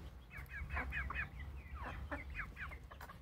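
A young improved-breed chicken clucks in a quick series of short, close calls over a steady low background hum.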